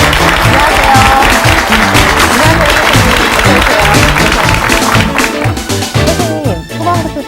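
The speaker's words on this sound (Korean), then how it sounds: "큰 박수로 맞이해 주시죠" A studio audience at a televised special lecture on traditional acupuncture and moxibustion breaks into loud, sustained applause welcoming the lecturer, steady clapping that fades slightly toward the end.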